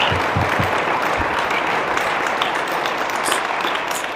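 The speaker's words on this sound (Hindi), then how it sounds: "तो प्रभु यीशु के लिए तालियां तो बजाइए।" A church congregation in Chhattisgarh claps together in a dense, even burst of applause that holds steady throughout, with a few louder low thumps near the start.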